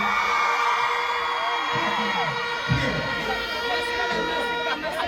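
A live concert crowd at a stage show roars and screams continuously, a loud dense wall of cheering voices with occasional whoops rising above it.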